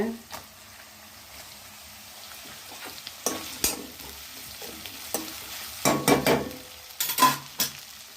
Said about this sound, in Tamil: இது கொஞ்சம் தக்காளி கொஞ்சம் வதங்கட்டும்